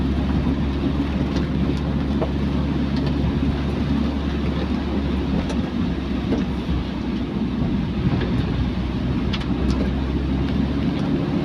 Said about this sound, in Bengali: আমি কিন্তু খুব আস্তে গাড়ি চালাইতেছি যেন আপনারা ভালোভাবে দেখতে পারেন